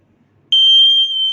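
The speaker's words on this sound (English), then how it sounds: "You can hear the buzzer is turning on and off for 2 seconds" Electronic buzzer driven through a relay switching on: after a moment of near silence, a sharp, loud, steady high-pitched tone starts abruptly and holds continuously to the end.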